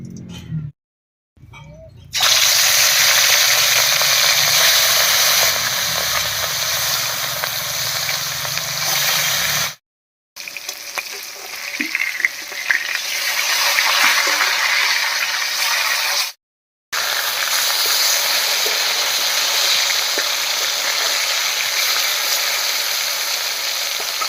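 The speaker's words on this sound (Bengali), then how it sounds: "তেল গরম হয়ে গেছে এবারে মাছগুলো ভেজে নেবো" Rohu fish pieces frying in hot oil give a loud, steady hiss and crackle close by, running continuously with two brief silent breaks.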